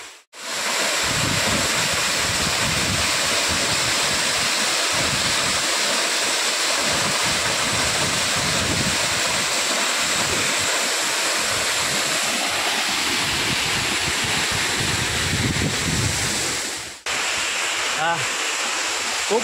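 The Bahubali waterfall near Ranpat village during the rainy season: a loud, continuous roar of rushing, cascading water heard up close, with wind buffeting the microphone throughout.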